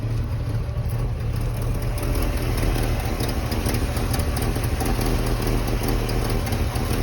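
A 1957 Chevrolet Corvette roadster with a 283 cubic inch V8 and dual Carter four-barrel carburetors idles smoothly and steadily, a close, even low throb with no voices.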